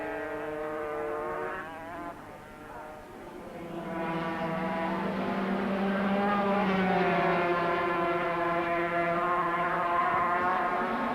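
A factory Yamaha Grand Prix racing motorcycle, the number 31 machine, sings with a high, rising engine note that holds and climbs as it passes, steady and fairly close with no talk over it.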